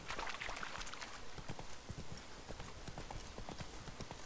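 Roach the horse from The Witcher 3 gallops steadily, producing a quick, continuous run of clip-clop hoofbeats at close range over a busy game ambience.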